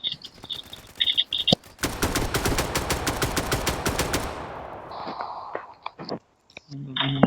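Rapid automatic gunfire in a police-themed shooter game set in Flex City, a dense sustained burst of shots lasting a couple of seconds, with scattered game effects and a few single shots before and after.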